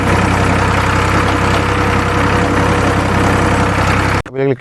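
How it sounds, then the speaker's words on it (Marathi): A loud, steady tractor engine idles close by with a low, even rumble that cuts off abruptly near the end. "आपण ट्रॅक्टर चालवतो"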